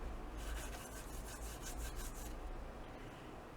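A clean towel rubbing mica powder, Perfect Pearls, off a surface, giving a steady close scrubbing rasp in quick strokes that fades out near the end.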